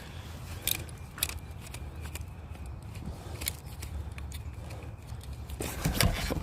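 Metal zipper pulls on a bag tink against each other while someone hikes outdoors, a scattering of light, sharp metallic clicks at irregular intervals over steady rustling and movement noise.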